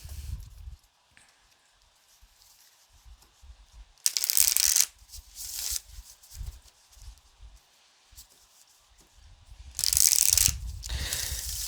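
A deck of oracle cards shuffled by hand in two brisk bursts of riffling and rustling, with quiet soft handling noises between them and no talk.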